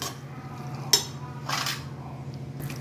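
A spoon stirs paneer butter masala in a pan, with one sharp clink against the metal, then softer scrapes and light knocks over a low steady hum, close by and quiet between the strokes.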